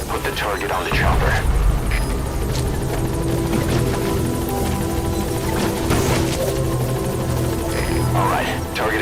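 A helicopter in the video game Metal Gear Solid V: The Phantom Pain, its rotor thumping steadily and loudly throughout, mixed with game effects and a brief crash-like burst, while voices talk over it.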